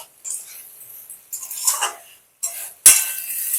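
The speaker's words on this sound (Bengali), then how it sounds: "এরপর সবগুলোকে একসঙ্গে নাড়িয়ে নেব। কয়েক সেকেন্ড এই মশলাটাকে ভালো করে একটু ভেজে নেব।" Spices and vegetables for a Bengali shukto are stirred and fried in a pan, with a utensil scraping and clinking in several short bursts separated by brief quiet gaps, close by.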